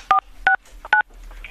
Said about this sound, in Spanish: métame el código 4469. en el teclado